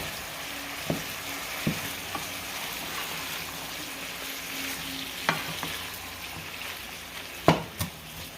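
Ground meat browning in a pan, a steady soft sizzle with occasional sharp utensil clicks and scrapes against the pan.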